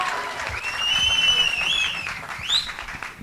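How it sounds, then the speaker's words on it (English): Round of applause from wedding guests for a couple in Mexico; a steady wash of clapping with cheers and whistles rising over it, lasting throughout at moderate loudness. "can we please have a round of applause"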